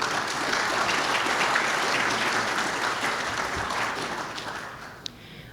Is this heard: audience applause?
yes